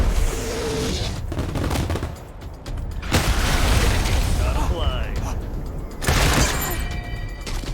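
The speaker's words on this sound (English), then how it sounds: "Cluster bomb it." Cluster bomb blasts in the video game Wasteland 3 erupt as loud overlapping bursts and booms, with a sharp crack around midway and another near the end, while a voice talks over the action.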